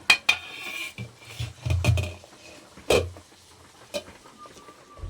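A metal lid is set over a cooking pot holding fish roe fritters in curry, giving several sharp, close metallic clanks and clatters with quieter scrapes between them. No one talks.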